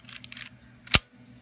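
A single crisp mechanical shutter click snaps out from a Minolta Hi-matic F camera after some light clicking and film-advance handling noises, close and clear.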